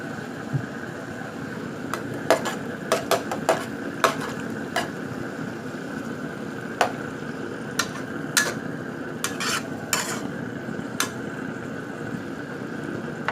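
Egg fries in a pan for stir-fried soy sauce noodles with chicken, a soft steady sizzle under scattered sharp clicks and taps of a utensil against the pan.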